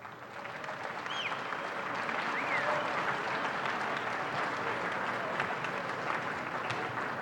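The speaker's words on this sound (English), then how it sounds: "So give them a round of applause." A school fine arts assembly audience breaks into applause, swelling within the first second into a steady, fairly distant wash of many hands with a few faint whoops.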